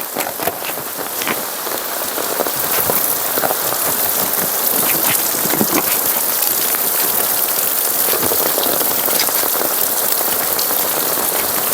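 Heavy rain pours steadily in Ubud, Bali, a loud, dense hiss of drops striking the street and nearby surfaces, continuous throughout with no voices.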